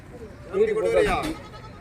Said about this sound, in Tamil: செம்மறி பொட்டை குட்டி சரிங்க சரியான குட்டியான குட்டிங்கண்ணா